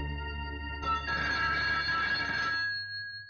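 A telephone bell rings once for about two seconds, a fairly quiet, tonal trill over a low hum, and fades out afterward.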